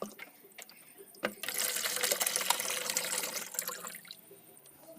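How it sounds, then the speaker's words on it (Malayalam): Bottled water poured into a container while making soap, a faint splash that swells into a steady gurgling stream for a few seconds and then tapers off, with a sharp clink just before the pour. "മൂന്നാമത്തെ കുപ്പി വെള്ളമാണ് ഒഴിക്കുന്നത്"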